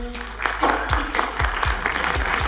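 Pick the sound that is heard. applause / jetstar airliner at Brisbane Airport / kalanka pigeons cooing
applause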